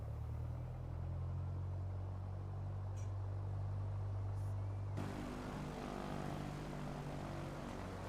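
A Piper Warrior II propeller engine taxiing in Microsoft Flight Simulator gives a steady, close droning hum with a low throb that shifts in tone midway and then runs on evenly, with no voices.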